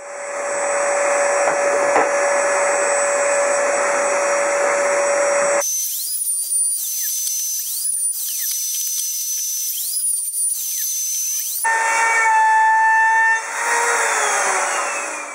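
Power sander working on wooden cradle rails, a steady loud whine running throughout with two brief changes in pitch and level partway through, no voices.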